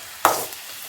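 A single short burst of sizzling as tomatoes hit a hot pan while cooking Chennai-style mango and drumstick sambar, loud and close, fading quickly into quiet frying.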